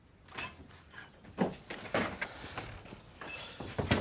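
A door in a home is opened with a few soft knocks, a latch click and a creak, moderately close, followed by light shuffling movement and no talking.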